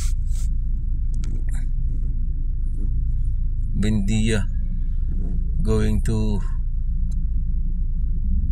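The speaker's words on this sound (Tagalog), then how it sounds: "Naku, pakahaba ng traffic." Steady low rumble of road traffic on an elevated skyway, with a continuous drone throughout and people talking briefly over it.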